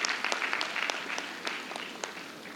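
Scattered audience clapping at an alumni felicitation programme, a modest round of hand claps with distinct individual claps standing out, fairly distant and tapering off.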